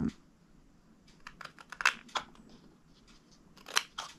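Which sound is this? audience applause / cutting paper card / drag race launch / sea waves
cutting paper card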